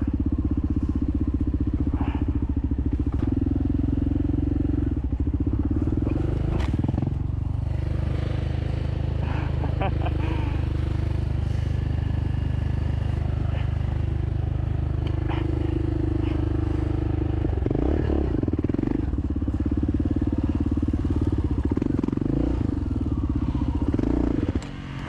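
An enduro motorcycle engine runs steadily close by, its rough idle rumbling throughout with a few revving surges and mechanical clatter.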